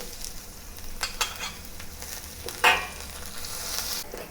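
Garlic, ginger and dried chili sizzle in hot oil in a wok, a continuous frying crackle with scattered scrapes and clinks of a spatula stirring, one sharper metallic knock midway, close and moderately loud with no talking.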